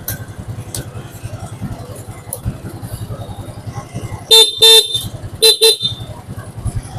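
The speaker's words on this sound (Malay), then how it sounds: "Okay, horn pun ada." A SYM Bonus 110cc motorcycle horn beeps in two short pairs, sharp and close, over the bike's low idling engine.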